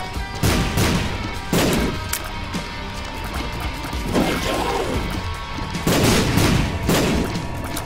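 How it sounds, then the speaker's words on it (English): Bombs going off in The Binding of Isaac Afterbirth+: a run of loud, punchy explosive bursts, roughly five, spaced a second or two apart over a continuous game backdrop. "And then you'll shoot out bombs."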